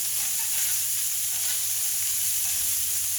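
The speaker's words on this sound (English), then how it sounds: "we've gone from dry pan to nearly deep frying" A5 Wagyu fat sizzles and spits in a pan, rendered down until the beef is nearly deep frying; a steady, bright crackling hiss runs close and continuous with no voices.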